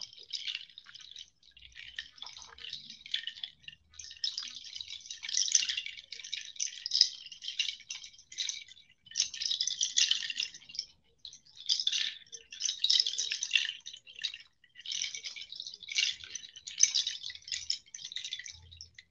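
A shimmering, rattling wash from an instrument imitating trickling water or rain, rising and falling in slow waves, with no one speaking.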